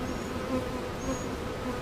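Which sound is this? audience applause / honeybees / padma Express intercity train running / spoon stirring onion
honeybees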